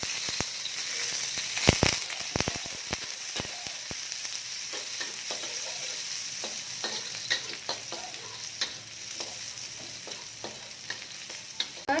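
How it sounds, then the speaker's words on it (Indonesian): Shallots and garlic sizzle steadily as they sauté in hot oil in a pan, with sharp scraping and tapping from stirring scattered through the continuous frying hiss; no one speaks. "Kita tumis dulu bawang merah"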